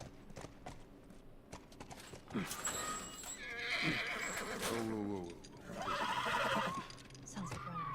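A horse in The Last of Us neighs and whinnies loudly amid clip-clopping hooves, with several sharp game sound effects and some speech-like voices mixed in over eight seconds.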